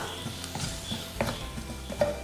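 Homemade ground spices for mushroom masala stirred in a pan: soft, scraping stirs with light clinks of a utensil against the metal pan and a faint sizzle underneath, quiet and close.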